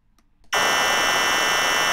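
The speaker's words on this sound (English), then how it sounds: "Ta-da, there's your chord." Half a second of near silence with faint ticks, then a loud, buzzy electronic chord, made by speeding up a rhythm, starts abruptly and holds steady.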